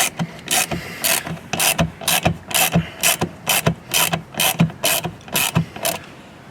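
A hand ratchet with a 10mm socket turns 6.3 by 20 screws during an accessory install on a 2023-2024 Acura RDX, giving repeated bursts of sharp clicking in regular strokes, close and clear, with no talking.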